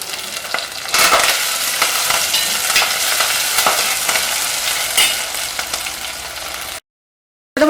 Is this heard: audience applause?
no